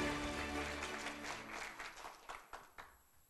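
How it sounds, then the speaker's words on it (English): Applause from a conference audience in Taiwan fades out over a few seconds, leaving a handful of scattered final claps. "Please join me in giving her a big round of applause"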